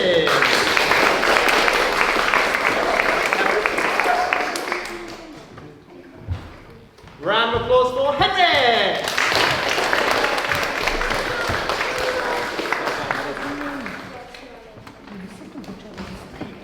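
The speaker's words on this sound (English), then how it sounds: "Round of applause for Toby." Audience applause at a school leavers service, a dense burst of clapping for several seconds that dies down, then rises again with cheering voices and continues steadily to the end.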